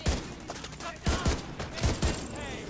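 Gunfire in The Division 2 video game: several sharp, loud shots land in short irregular bursts over a steady background, with a voice talking between them.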